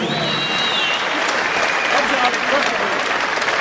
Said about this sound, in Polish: głośne brawa dla obydwu zawodników